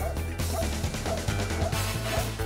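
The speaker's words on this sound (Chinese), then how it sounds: "听到 Rush 的吠声" A trained rescue dog barks on finding a hidden person during a search drill, with loud, close yips over a dense, noisy background.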